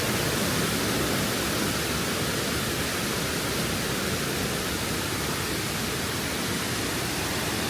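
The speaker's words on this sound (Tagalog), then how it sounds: "malakas yung tubig kasi nga naulan." Botolan Falls pouring hard after rain, a broad, unbroken roar of rushing water that stays loud and even throughout with no voices over it.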